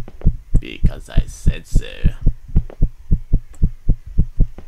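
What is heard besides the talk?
heartbeat sound effect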